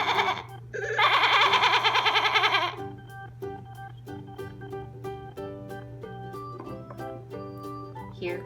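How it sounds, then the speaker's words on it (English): A toy farm animal sound puzzle plays a recorded goat bleat, a loud quavering electronic maa lasting about two seconds, then a plinking toy melody over a steady hum. "This is a goat."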